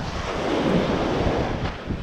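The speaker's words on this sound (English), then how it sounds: "the waves are crashing bad" Surf crashing hard on a bay shoreline near thigh-deep water, a steady loud roar of breaking waves mixed with gusty wind buffeting the microphone throughout.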